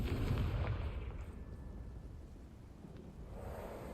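A Confringo blasting spell explodes in the Hogwarts Legacy video game, a loud rumbling boom that hits at once and then slowly fades into a thundery, low roar with no voices.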